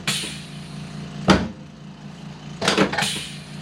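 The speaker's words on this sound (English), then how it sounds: "So that noise, that clicking noise you hear, we have a pedal down here. It pops the table up." A Thompson drop table in a chiropractic office makes two short mechanical clunks as its pedal pops the section up, one alone and one a moment later as a quick double click, close and fairly loud.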